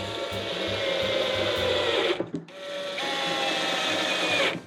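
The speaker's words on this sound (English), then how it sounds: "Go ahead and screw these on the upper corners of our cabinet." A power driver sets flathead screws through L brackets into a ready-to-assemble cabinet, with a loud, steady motor whir that breaks briefly midway and then resumes.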